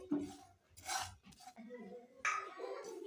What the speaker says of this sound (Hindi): इसको भी 2-3 मिनट हम ड्राई रोस्ट करेंगे।